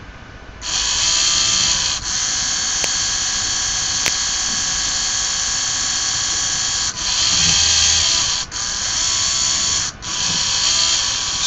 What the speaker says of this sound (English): let's roll the motor, see how that works.